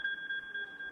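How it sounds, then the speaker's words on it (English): An iPhone 3GS plays its Find My iPhone alert, a steady two-tone electronic chime pulsing in a quick regular rhythm, clear and fairly loud with no talking. "This alert sound plays whether or not you left it in silent mode."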